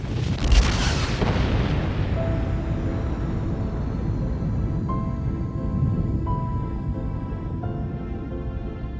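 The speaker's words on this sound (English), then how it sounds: "Billions of years ago, this fireball exploded." A primordial fireball exploding, rendered as a deep booming blast at the start that rolls into a long sustained rumble with faint tonal hums, loud and alone.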